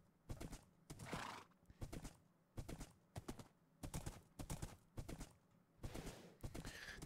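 Horse sounds from Minecraft: repeated clip-clop hoof steps in short bursts with whinnying snorts, fairly close and alone.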